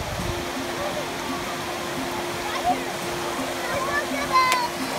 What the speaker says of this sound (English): There's the top falls right there.